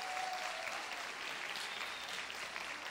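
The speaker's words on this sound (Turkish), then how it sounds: "Bizler de onları kocaman alkışlarla uğurlayalım lütfen" Sustained concert audience applause sends off a Roma orchestra and a choir of village headmen in Nilüfer, an even, dense clapping wash that stays steady throughout, somewhat distant and with no talk.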